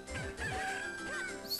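Chickens in the game Zelda: The Minish Cap, with clucking and crowing-like fowl calls layered over a bright synthesized game tune, rising and falling rhythmic notes, clear and close.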